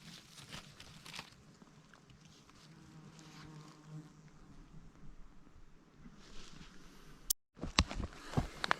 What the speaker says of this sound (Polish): muchy się wściekły, chcą mnie zjeść